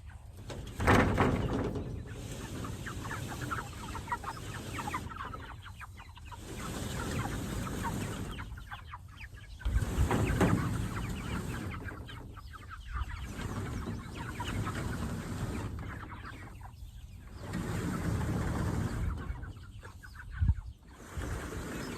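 Chickens in a chicken tractor on grass cluck and murmur in soft, recurring bursts, fairly close but quiet, with brief pauses between the groups of calls.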